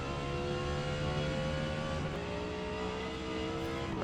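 An Audi R8 GT race car engine in Forza Motorsport at Mid Ohio, a loud, steady high-revving drone with gear-held tones shifting slightly as the car slows for a hairpin.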